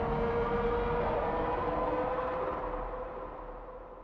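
Alien dragon roar made from dog toy sounds, with delay and reverb added: a long, harsh, siren-like sustained roar with a steady tone running through it, loud and alone, trailing off slowly into an echoing tail.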